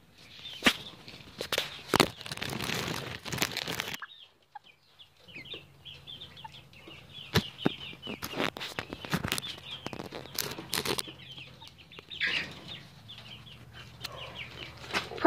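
Newly acquired chickens cluck and squawk close by in irregular bursts, with sharp clicks and rustling, a short quiet gap, then a low hum under further scattered clucks and wing flutters.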